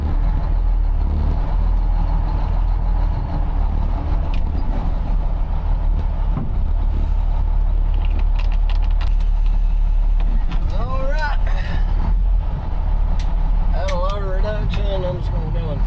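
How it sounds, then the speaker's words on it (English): Old Macalac vehicle in first gear through the woods while building a road, a steady low engine rumble throughout, close and loud, with brief squeaky creaks later. "I'm just going to go in first gear, run up through here."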